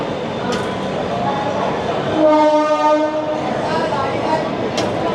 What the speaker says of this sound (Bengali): আমাদের ট্রেন এসে পৌঁছেছে কানপুর সেন্ট্রাল স্টেশনে